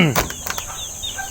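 Chickens from a Basra and Black Eagle crossbreed flock cluck in short bursts with a few quick wing flaps, close by and fairly loud against low background noise.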